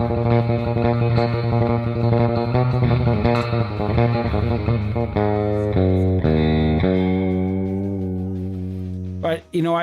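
Distorted electric guitar riff through an amp simulator, surf-style tone, loud and continuous, with strong harmonic chords and quick note changes, ending in a brief dropout before a final strum.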